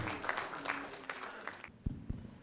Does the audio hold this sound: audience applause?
yes